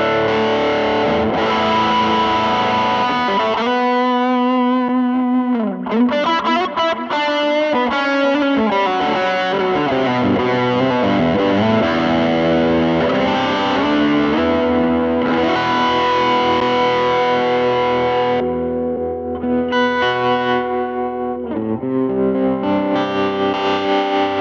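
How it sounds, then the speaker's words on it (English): A distorted, high-gain electric guitar with humbuckers, played through a Valeton GP-200LT, sounds continuously and loudly, chords and riffs ringing with thick saturated crunch and sustain throughout. "do a more high gainy kind of sound"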